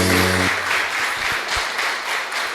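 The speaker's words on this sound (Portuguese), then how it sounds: "Você pode aplaudir Jesus?" A church congregation bursts into applause at a worship service, with a sustained wash of many hands clapping after a brief musical chord fades, fairly loud and steady throughout.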